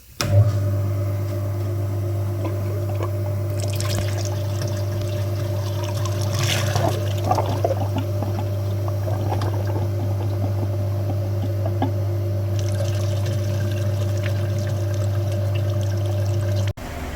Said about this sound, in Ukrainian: Підключились на мотор, включимо насос.